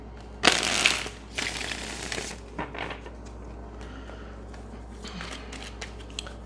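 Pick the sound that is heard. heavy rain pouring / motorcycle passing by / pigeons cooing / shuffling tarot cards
shuffling tarot cards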